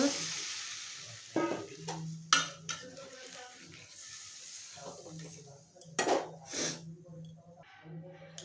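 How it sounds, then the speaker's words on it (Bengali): Bottle gourd pieces hit a hot wok and sizzle steadily, with several sharp scrapes and clanks of a spatula against the pan as they are stirred. "কড়াইতে লাউ দিয়ে দিলাম, এখন জল দিয়ে দেব।"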